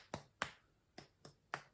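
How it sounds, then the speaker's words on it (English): Two-finger claps struck with the fingertips give five sharp, quiet, isolated snaps in an uneven rhythm, close and clear with silence between them. "So instead of clapping with my whole hand, I'm going to clap just with my fingertips."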